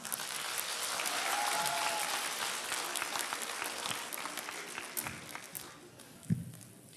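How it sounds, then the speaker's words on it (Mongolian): A concert audience applauds at a Mongolian song gala, sustained clapping that swells early and holds steady, tapering off with a few louder scattered claps near the end. "алга ташлал яасан бэ манайхаа?"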